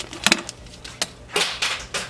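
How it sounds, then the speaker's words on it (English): A plastic bag is handled and crinkled near a litter of young animals, giving irregular sharp crackly bursts up close, separated by brief quiet gaps, with no talk. "I'm touching it with a plastic bag"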